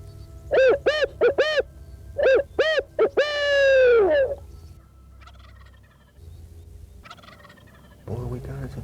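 Western wild turkey country in Oklahoma: a series of rhythmic owl hoots rings out clearly, then a wild turkey answers with a loud rattling gobble, followed by fainter distant calls.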